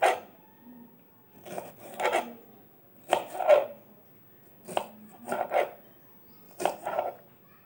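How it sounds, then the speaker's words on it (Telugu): A knife thinly slices okra for a fry on a board, giving short bursts of crisp cutting strokes in uneven clusters, close and fairly quiet, with brief pauses between groups. "హెడ్ టేల్స్ కట్ చేయాలి. సన్నగా కట్ చేసుకోవాలి"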